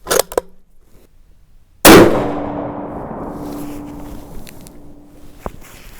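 A .243 Winchester rifle fires a single loud, sharp report outdoors that rings and decays over several seconds, preceded by faint clicks of handling.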